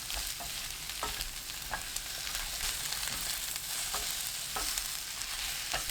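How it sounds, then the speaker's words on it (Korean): Eggplant, onion and fish cake stir-fry over high heat in a pan with a dense, continuous sizzle. Occasional soft stirring taps sound close by, and no one talks. "양파, 어묵 넣고 1분 볶습니다."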